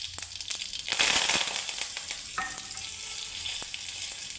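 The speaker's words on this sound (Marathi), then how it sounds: "आणि ह्याच्यामध्ये आपण आता कढीपत्ता घालणार आहोत।" Curry leaves dropped into hot oil with mustard seeds and asafoetida during tempering, bursting into a loud close sizzle and crackle that settles into steady frying with a few stirring scrapes.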